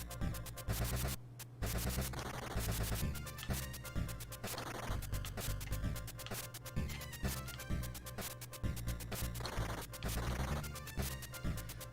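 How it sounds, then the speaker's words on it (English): A weak-sounding gun in the retro adventure game Snatcher fires in steady rapid repetitions over continuous game music, fairly quiet throughout. "God, that gun sounds so weak."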